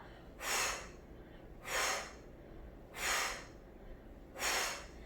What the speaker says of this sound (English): You can even breathe out every time you come up.